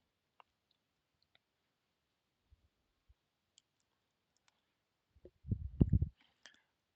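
Mouse clicks on a computer during spreadsheet and software setup, a few faint, sparse isolated clicks spread across the stretch, followed by a louder burst of rustling handling noise near the end.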